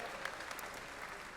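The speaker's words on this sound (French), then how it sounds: "applaudissez-le les amis" Audience applause for a contestant at a Japan Expo stage challenge, a brief faint wash of clapping from a crowd heard at a distance.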